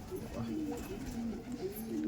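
An Andhra racing pigeon held firmly in a handler's hands gives soft, repeated low coos in a close, continuous run.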